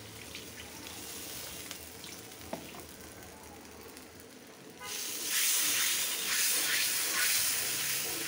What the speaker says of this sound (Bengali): মশলাটা কষানো হয়ে গেছে, ডিম ভুনা একটু পানি দিয়ে দিব।